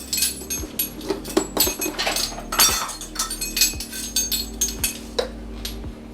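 A clean metal spoon clinks repeatedly against glass dishes and bowls in a home kitchen, a busy run of bright, close taps and rattles over a low steady hum, with no talking.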